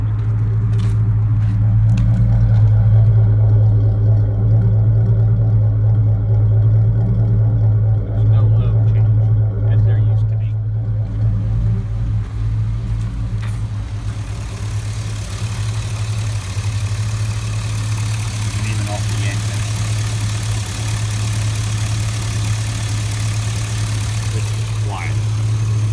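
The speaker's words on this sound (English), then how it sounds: "The engine is even quieter. It's keeping a consistent tone." A 2003 GMC Yukon engine idles steadily with a low, constant hum that holds an even tone throughout. A voice talks over it for much of the time.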